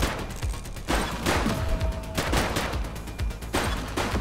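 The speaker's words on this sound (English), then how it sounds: "Light them up! He's shooting!" Rapid bursts of gunfire in The Precinct police video game, several volleys of automatic and repeated shots spread across the shootout, loud and close with no talk.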